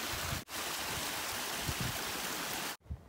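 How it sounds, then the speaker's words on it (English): Stream water flows at a trail water source on the Appalachian Trail, a steady close splashing trickle with two brief cuts in the recording. "Really cool water source right here."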